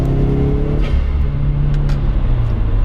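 A car engine fitted with a Perrin BOV recirculator lets off the throttle with a rumbling engine note that dips, with faint brief venting puffs over the steady road-vehicle drone.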